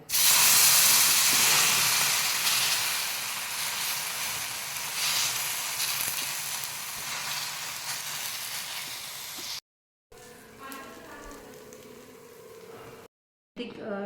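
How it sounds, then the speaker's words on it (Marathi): Oil and dosa batter sizzle on a hot griddle with a loud, broad steamy hiss that gradually softens, broken by two short silent gaps near the end. "हलकंसं तेल तव्यावर टाकूया। डोसे बनवण्यास सुरुवात करूया।"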